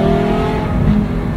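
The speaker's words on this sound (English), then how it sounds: "Good sounding car." A Nissan R34 GTR engine revs hard close to the microphone, a loud, throaty, rising and falling roar over about a second and a half, heard alone without talk.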